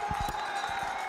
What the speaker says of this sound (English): And Colonel's applauding.